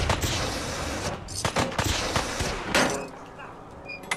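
Gunshots ring out in Fallout 4, a rapid run of loud cracks in the first seconds that thins into a few scattered shots, with voices talking in the middle of it.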